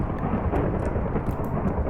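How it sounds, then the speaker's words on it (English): A vicious thunderstorm in a Minecraft modpack game fills the space with a steady, heavy rumbling roar and dense rain-like noise, with no clear breaks. "And that is a thunderstorm. That is a really kind of vicious one."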